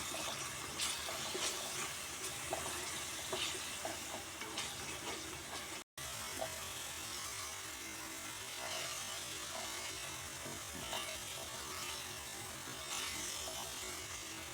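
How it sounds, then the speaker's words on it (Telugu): Water runs into a pan of paneer and green peas masala curry with a continuous splashing gush, joined by a faint sizzle, and a brief dropout partway through. "ఇప్పుడు కొద్దిగా వాటర్ పోసుకున్నాం"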